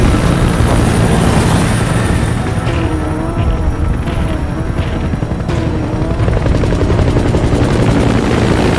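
Support helicopter arriving for an extraction in Metal Gear Solid 5: The Phantom Pain, its rotor thudding loudly and steadily throughout with a constant engine roar.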